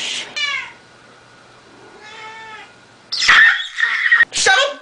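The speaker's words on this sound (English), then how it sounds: "Stop meowing!" A cat gives two drawn-out meows up close, the second quieter, followed by loud, harsh human shouting that overlaps a further cry.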